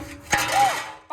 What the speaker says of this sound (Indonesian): Maafkan itu suara loyang pemirsa.